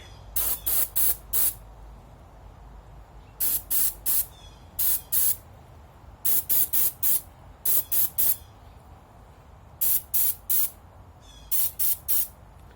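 Durablue finish sprayed onto a Savage/Fox Model B gun: short, sharp aerosol hisses in clusters of three or four, with quiet pauses between bursts, close and crisp.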